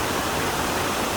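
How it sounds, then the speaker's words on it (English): A small waterfall cascading down Cat Gill stream near a footbridge gives a steady, close, full rushing roar of falling water that holds evenly throughout, with no voices. "there is a bit of a waterfall or cascades here"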